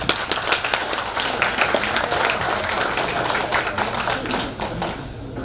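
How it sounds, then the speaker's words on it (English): A hall full of people claps in a dense, sustained round of applause at the seventh-anniversary celebration of a Carolinas Chinese business association, steady for several seconds before tapering off at the end. "Let's all give ourselves a great round of applause."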